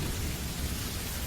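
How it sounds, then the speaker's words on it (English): Steady, dense rain falls outside in a continuous hiss and patter, loud and even throughout with no breaks or voices. "Outside, it begins to rain."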